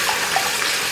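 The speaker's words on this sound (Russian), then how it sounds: "И хорошенечко промываю все под проточной водой" Cabbage, already cut and torn apart, rinsed under running tap water in a kitchen sink: a steady, loud, close rush of flowing water with faint splashes, no voices.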